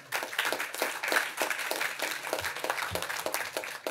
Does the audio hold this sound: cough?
no